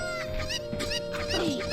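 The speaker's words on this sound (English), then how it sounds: "I have to borrow a chicken." A chicken clucks in Ocarina of Time Randomizer, the Zelda game, giving a short burst of high, chirpy clucks over a steady game-music tone.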